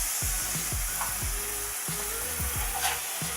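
Herby bread dough dusted with mixed herbs cooks in a hot dry pan with no oil, giving a steady close sizzle broken by repeated dull knocks and scrapes as it is pressed and moved.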